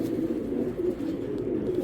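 A Belgian racing pigeon coos softly and close, a low, rolling, repeated warble that runs through the short moment with no voices.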